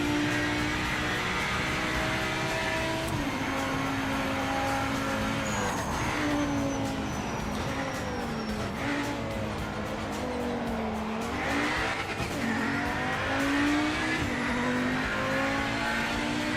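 A race car in the Project Motor Racing video game slides with sustained tire squeal over a steady engine note that rises and falls through the slide, loud and continuous without talk.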